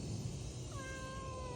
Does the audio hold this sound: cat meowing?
yes